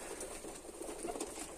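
Pigeons coo softly in short, low murmurs at a backyard loft, faint and close under steady background noise, with nobody talking.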